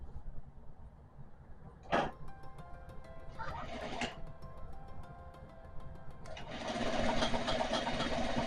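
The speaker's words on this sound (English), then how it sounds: "I'm gonna go ahead and sew those together and then just press the seams open." A sewing machine stitches jacket seams together in short runs, with a brief pause and a clunk between them, then a steadier, louder run of stitching.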